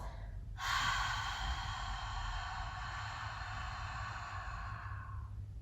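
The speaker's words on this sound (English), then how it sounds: "Big exhale for 4 out the mouth" A long, deep exhale out through the mouth during a yoga breathing exercise, one steady airy breath held for about five seconds, close and fairly loud.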